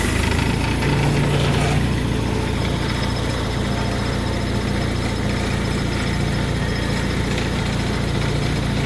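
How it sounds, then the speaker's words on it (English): A TCM FG25N 5,000-pound forklift engine runs at a steady, loud idle with a low rumbling drone and slight shifts in tone as the mast lifts and tilts. "Mast goes up as it should, tilts forward, tilts back."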